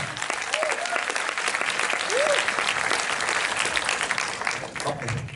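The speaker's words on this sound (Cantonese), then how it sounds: "我哋以熱烈嘅掌聲歡迎伍允龍、安志傑、Philip Andy" Warm, continuous applause from the audience at the Once Upon A Time In Shanghai film premiere welcomes the guests, with a few faint whistles rising above the clapping.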